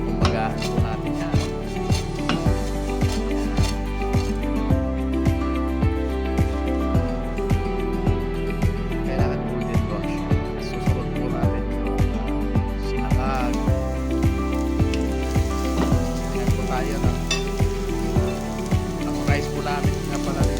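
Dried anchovies fry in a pan with a steady, close crackling sizzle that runs throughout beneath rhythmic background music, with someone talking at times.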